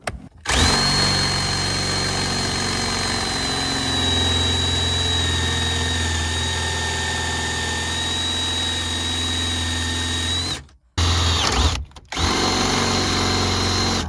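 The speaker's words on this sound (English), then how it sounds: "Now, I guess we commence to drilling." A power drill whines continuously for about ten seconds while drilling on an abandoned Ford Ranger, stops briefly twice, then starts up again.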